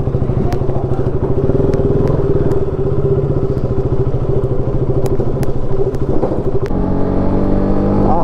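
A freshly serviced motorcycle ridden through traffic in Jammu, its engine running smoothly and steadily throughout, close and loud, with a brief gear change and revving near the end.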